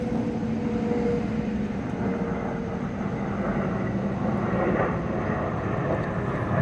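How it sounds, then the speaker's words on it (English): An airplane passes over a park on a windy day, giving a steady, broad roar that holds at an even level for the whole stretch. "and there's another plane."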